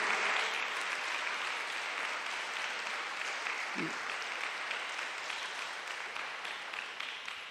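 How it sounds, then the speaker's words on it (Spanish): Church congregation applauding for the King of Kings during a sermon, a steady, dense wash of clapping from a large crowd lasting several seconds and slowly fading slightly. "Yo creo que eso amerita un aplauso para el Rey de Reyes y Señor de Señores."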